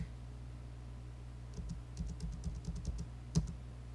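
Quick bursts of clicking keystrokes on a computer keyboard, including presses of the backspace key, come in a close, quiet cluster of taps and end with one sharper click.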